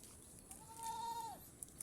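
A goat on a goat-raising farm in Aborlan, Palawan gives one drawn-out, steady-pitched bleat lasting under a second, faint and somewhat distant against quiet background, with no talking.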